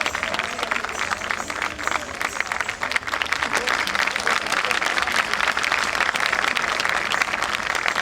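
Sustained audience applause after a Bharatanatyam dance performance, a dense steady wash of many hands clapping at full volume for the whole stretch, with no voices rising above it.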